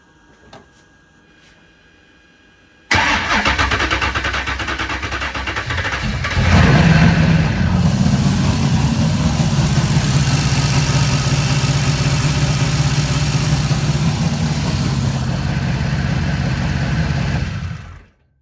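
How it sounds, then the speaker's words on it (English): An LS V8 engine with its valve cover removed cranks and fires after a quiet start, then runs loud and close at a rough idle with a steady low drone before cutting off abruptly. "took the valve cover off and started it up another time for a few seconds"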